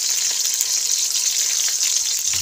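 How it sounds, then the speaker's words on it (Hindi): Onions frying in oil in a pan for an aloo matar pulao, a steady, even hiss and sizzle close by with no talk. "मैंने तेल डाला, तेल डाल के तो मैंने उसमें प्याज शामिल कर दिए।"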